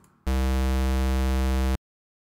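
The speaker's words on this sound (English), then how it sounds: "and square waves" A synthesized square wave plays as a hollow, reedy buzzing tone, steady and loud for about a second and a half, with abrupt onset and cutoff and nothing else around it.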